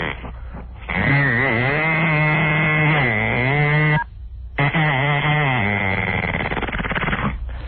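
A voice imitates a chainsaw, buzzing and revving in long sustained bursts with rising and falling pitch, broken by one short pause, close and loud with no other sound.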